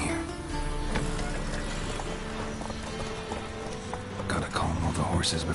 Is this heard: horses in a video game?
yes